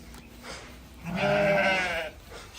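A single sheep gives one clear, wavering bleat lasting about a second, close by against a quiet background.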